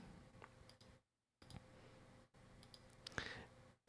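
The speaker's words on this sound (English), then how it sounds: "I was clicking on things I didn't need to click on." A computer mouse clicked at a desk while editing in audio software, producing faint scattered ticks and one sharper click, quiet and close, with no talk.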